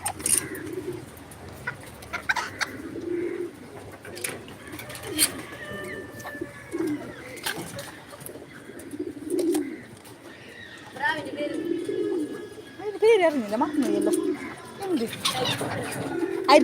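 Soft pigeon coos repeat at intervals, close by, with faint talk and a few sharp clicks and rustles in the background.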